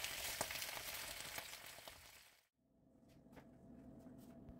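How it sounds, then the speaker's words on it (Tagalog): Food sizzles as it fries in oil over medium heat, a dense hiss that breaks off briefly midway then resumes more quietly with scattered pops. "Iprito ito sa katamtamang apoy ng 5 hanggang 8 minuto o hanggang maging golden brown ito."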